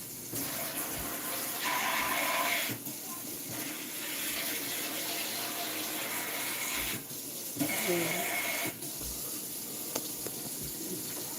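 Water blasting out of a locked water sprayer in a video game comes in rushing hissing bursts, each several seconds long, broken by short gaps.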